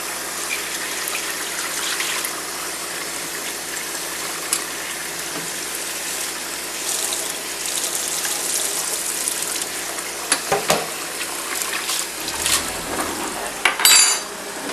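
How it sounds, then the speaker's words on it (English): Steady broadband rush of water running from a kitchen faucet, continuous throughout, with a few clinks of dishes near the end. "I'm going to run cold water in there."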